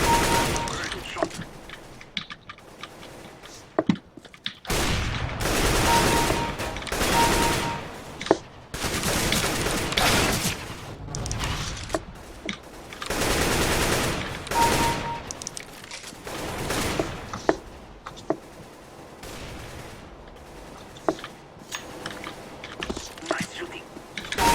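Gunfire in a first-person shooter game comes in repeated bursts and volleys, some rapid like automatic fire, with mechanical clicks and quiet speech mixed in throughout.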